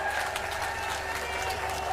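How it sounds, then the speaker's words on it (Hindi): A political rally crowd at Thanesar, Kurukshetra, gives a steady wash of clapping and cheering, dense and continuous throughout with no single claps standing out. "जोरदार तालियां और जोरदार।"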